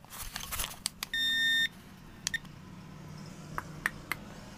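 A single electronic beep sounds for about half a second amid quiet clicks and handling noises, as a timer is set going during a home beer brew day.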